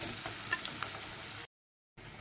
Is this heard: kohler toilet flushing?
no